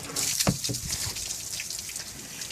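Water running from a tap as a heritage chicken is rinsed during evisceration, a steady close splashing wash with small drips throughout, no talking.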